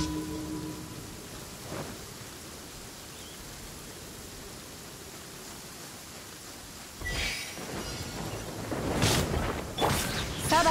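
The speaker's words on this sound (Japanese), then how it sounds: "雷が落ちてくるぞ。" Rain falls steadily in Genshin Impact, with a soft, continuous wash, then louder crackling bursts of thunder and lightning strikes toward the end, no talk.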